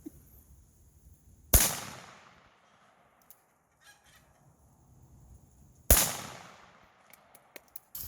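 Two loud, sharp gunshots from target shooting, a few seconds apart, each ringing out with a decaying echo, with faint clicks and handling noises between them and no talking.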